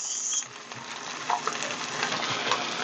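Cold leftover rice lands in a hot pan for fried rice and sizzles loudly and steadily up close, with a few scrapes and stirring clicks as it settles.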